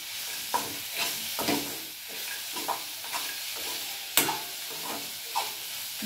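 Beetroot halwa with ghee-fried dry fruits is stirred in a pan: repeated soft scrapes of the spoon come at an irregular rhythm over a faint sizzle, close up, with one sharper clink and no voices.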